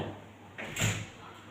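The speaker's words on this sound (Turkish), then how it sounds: "Kapı çalındı." A knock or bump on a hospital room door, one short muffled thud followed by a brief rattle, moderately close, with a faint background hum and no talk.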